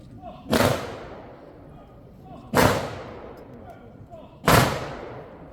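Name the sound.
honor guard rifle volley salute at memorial ceremony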